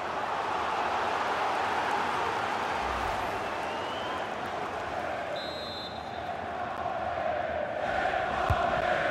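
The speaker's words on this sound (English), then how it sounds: "Well, just listen to the crowd." The stadium crowd in a FIFA 23 Champions League match between Chelsea and Borussia Dortmund keeps up a constant, loud roar with some cheering. It holds steady before a corner kick, and no commentary is heard.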